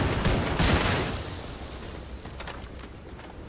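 Shotgun fire from the video game Starfield, fired from a weapon fitted with AR-15 parts: a loud, dense blast that rolls into a long, rumbling roar and slowly fades.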